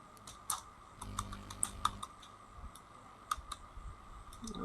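Someone types a Facebook page name on a computer keyboard, sharp irregular key clicks in short bursts over a quiet room, close and fairly soft.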